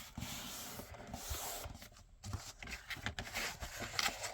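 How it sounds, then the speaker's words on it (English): Paper being scored on a scoring board, a continuous dry rubbing and scraping close by, with short pauses and strokes that vary in strength. "I'm scoring so that the little dent divot is going to be on the outside"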